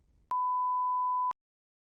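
A single clean electronic beep from a TOEFL speaking practice test, a steady pure tone lasting about a second, sounds alone and is followed by silence.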